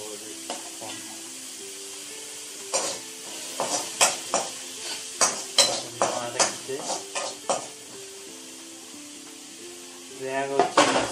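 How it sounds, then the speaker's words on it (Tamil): Tomatoes are sautéed in a pan, with a sizzle under a run of rhythmic, close spatula scrapes and clanks through the middle and a burst of stirring at the end. "தக்காளி போட்டதுக்கப்புறம் கொஞ்சம் வதக்கணும்."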